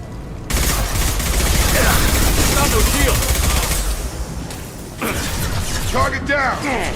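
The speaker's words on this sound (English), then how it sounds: "Blue Suns and Vorcha shooting anything that moves." Sustained gunfire in Mass Effect Legendary Edition as Blue Suns mercenaries and Vorcha shoot, a dense loud fusillade of rapid shots and mechanical clatter with brief gaps, mixed with game effects and some voices underneath.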